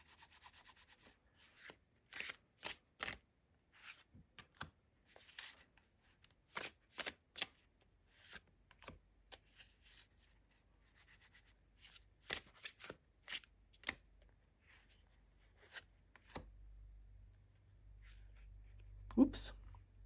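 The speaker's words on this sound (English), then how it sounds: "And I'm going to pull 3 cards from this deck." Tarot cards being shuffled by hand, giving a long run of crisp riffling and slapping bursts in an irregular rhythm, close and fairly quiet, with a low hum near the end.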